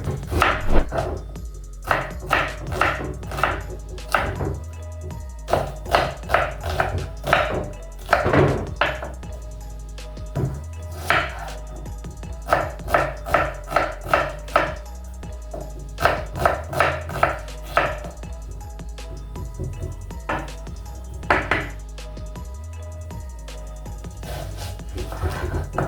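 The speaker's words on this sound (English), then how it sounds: "So I'm done chopping my onions." Knife chopping onions on a cutting board, close and fairly loud, in quick bursts of rapid even strokes separated by short pauses, with faint background noise and no talk.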